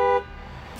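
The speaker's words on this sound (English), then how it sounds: "honk the horn" A Tesla's horn sounds remotely from the phone app, one short steady honk at the very start that stops sharply, leaving quiet background hum.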